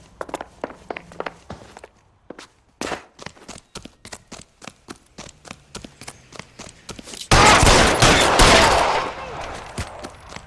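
Gunfire in the LA Noire video game: scattered single shots and footsteps give way to a loud, sustained burst of rapid gunfire near the end, close and dominant.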